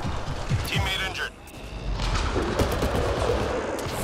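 Combat gunfire in the Mass Effect: Andromeda video game, loud bursts and rapid shots with a brief lull before the firing resumes steadily, with voices speaking over it.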